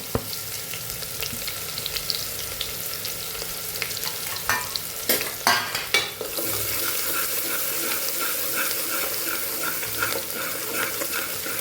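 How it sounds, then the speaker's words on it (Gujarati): Finely chopped onion frying in hot oil with cumin and asafoetida, a steady close sizzle broken by a few sharp clatters as it is stirred in, with no talking. "જે ડુંગળી આપણે ઝીણી સુધારેલી આપણે સાતળી લેવાની છે તો એ ઉમેરી દઈશું આપણે"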